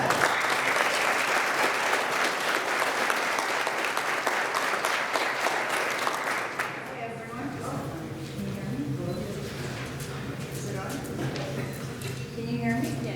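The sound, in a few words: audience applauding to welcome a congresswoman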